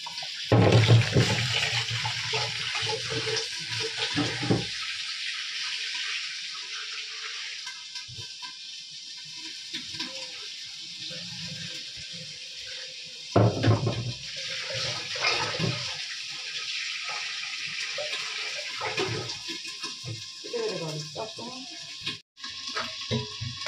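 Tap water runs steadily at a kitchen sink during home washing, with a continuous splashing rush that pauses briefly near five seconds and again mid-clip before resuming, close and fairly loud.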